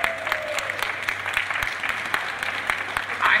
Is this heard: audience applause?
yes